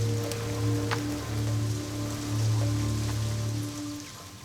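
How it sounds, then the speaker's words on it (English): Heavy rain during the Kalahari wet season, a steady dense hiss of drops pattering on the ground with a low continuous rumble beneath, even and enveloping throughout, no voices. "The wet season has supplied some of the heaviest rain in decades."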